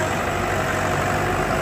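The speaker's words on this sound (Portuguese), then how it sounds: "Quem tá botando é o motor." A truck loaded with cabbage idles steadily, its engine producing a continuous, fairly loud rumble with no pauses and no voices.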